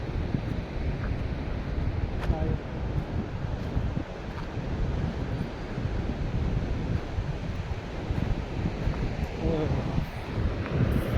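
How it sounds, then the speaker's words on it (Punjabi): Very strong wind on a mountain road from Srinagar to Gobind Ghat buffets the microphone with a loud, continuous roar that lasts throughout, with no clear talk. "ਦੇਖੋ ਕਿੰਨੀ ਤੇਜ਼ ਚੱਲਦੀ ਪਈ ਹਵਾ ਬਹੁਤ ਤੇਜ਼ ਹਵਾ"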